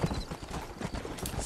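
Horse hooves clip-clop steadily in Red Dead Redemption, a quick, even rhythm of close, fairly loud footfalls under the game's ambient sound, with no one talking.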